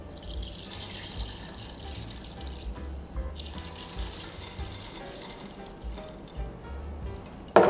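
Homemade creme de cacao liqueur being strained: a steady, soft trickle and pour of liquid with faint clinks, ending in a brief louder knock.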